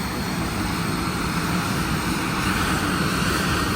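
A Viper Jet Mk II's jet engine running steadily on the ground during baseline testing, a loud, constant roar and whine held at even power throughout.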